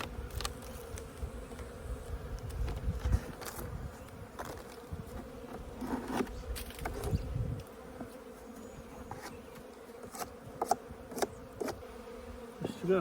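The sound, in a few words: honeybees buzzing in an opened hive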